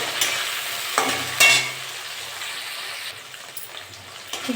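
Prawns frying in a pan with onions that were fried earlier. The sizzle is steady and moderate, with a few louder stirring scrapes near the start and no talking.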